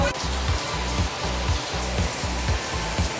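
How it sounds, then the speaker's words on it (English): Heavy rain pours down in Phnom Penh as a dense, steady hiss, with a rhythmic low pulsing thrum repeating underneath and no voices. "it's raining super hard"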